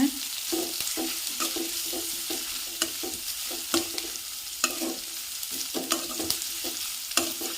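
Chillies sautéing in a pan for thokku, a constant hiss of frying under a brisk, regular rhythm of spatula scrapes and taps repeating roughly every half second, close by.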